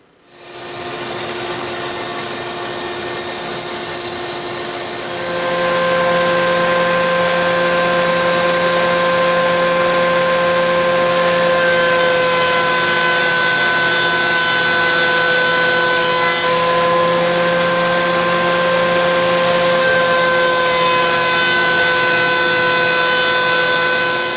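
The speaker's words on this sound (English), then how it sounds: "The boards are resawn and they are thickness planed to our proper dimension" A power tool runs continuously on wood boards being resawn and thickness planed, a loud, steady mechanical whine with strong sustained tones that shift slightly in pitch as it works through the stock, with no talking.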